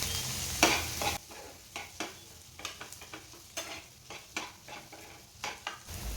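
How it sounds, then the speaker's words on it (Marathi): Tomatoes, green chillies and sour raw mango cooking in a hot pan, a steady low sizzle broken by repeated scraping and stirring clatters, close up with no voices. "टोमॅटो पण छान शिजवून घ्यायचं आहे."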